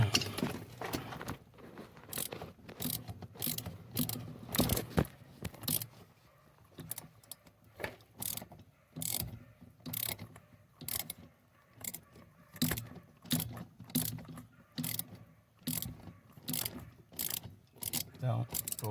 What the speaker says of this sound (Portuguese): estou apertando aqui, montando a coluna de direção